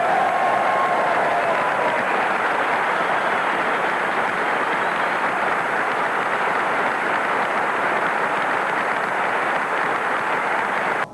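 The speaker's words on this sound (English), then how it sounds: "I think that all of us would like to join in a round of applause for the brave men that took those B-52s in and did the job" Sustained, dense applause from a large audience at a Linebacker II 50th anniversary commemoration, steady and loud for about eleven seconds before cutting off abruptly.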